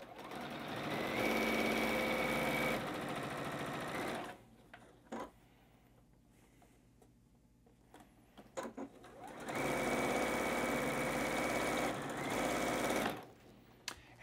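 A sewing machine stitches a quarter-inch seam along an edge guide on a batik quilt block, running in two steady bursts of several seconds each with a quiet pause between them.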